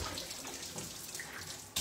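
Water runs steadily from a tap while hair is rinsed during a wash, a soft, continuous close hiss and splash that ends with a brief louder burst.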